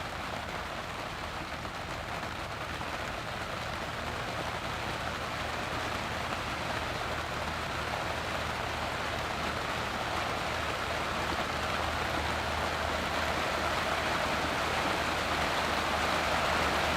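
Steady rain pours down during a croquet tournament, a dense unbroken hiss of drops on the ground that holds loud and even throughout, with no voices.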